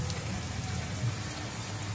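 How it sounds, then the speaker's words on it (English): Steady rain falling continuously on a South Carolina restaurant, a soft even patter on surfaces with no voices. "Oh my god, it's raining."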